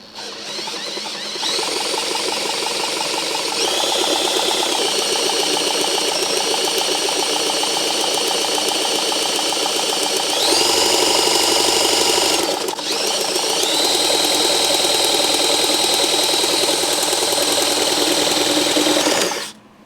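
A drill running in reverse turns over a seized engine: a loud, continuous mechanical whir and whine, steady throughout with a brief change in pitch partway, close and alone.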